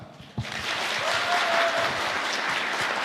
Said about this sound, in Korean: 우리 서달수 목사님 나오실 때에 격려와 응원의 박수로 모시도록 하겠습니다.